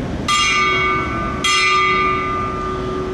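A memorial bell tolls twice during a Veterans Day program, each loud ringing strike followed by a long, sustained hum that decays slowly, with no talk over it.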